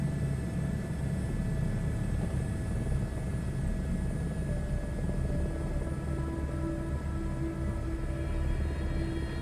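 Aircraft engine drone in Microsoft Flight Simulator 2024 career mode, a steady continuous hum with tonal whine holding level the whole time, no voices.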